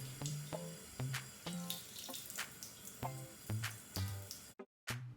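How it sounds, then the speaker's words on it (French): Cold tap water splashes into a sink in bursts as hands scoop it up to rinse a face after a black soap mask, with irregular gushes and drips, close and moderately loud, ending in a brief silence. "puis je rince à l'eau froide"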